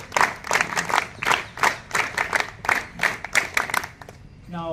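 An audience of NCC cadets at a model G20 summit event in New Delhi claps in loose, rhythmic bursts, close and lively, with the clapping thinning out just before a brief sound at the very end.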